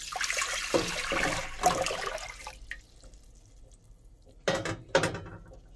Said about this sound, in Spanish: Aquí tenemos una olla de paredes altas o profunda. Vamos a agregar toda el agua.